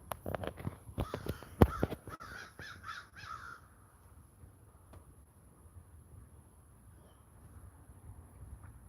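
Ravens give a series of harsh caws outdoors in the first few seconds, moderately distant, followed by quieter wind and background noise.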